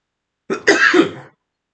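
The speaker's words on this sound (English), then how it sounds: "Sorry, felt that cough and didn't have a good mute" A single close, rough cough with a throaty clearing quality, lasting under a second, surrounded by silence.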